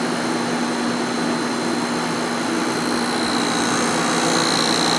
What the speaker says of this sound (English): Lots of airflow through the condenser.